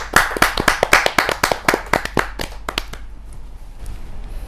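Audience at a Hindi kavi sammelan poetry gathering claps to welcome a poet, a loud burst of individual hand claps close by that thins out and fades after about three seconds.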